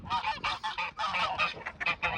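Geese honking near a backyard chicken run, a loud, close chorus of overlapping harsh honks that goes on almost continuously, with no talking.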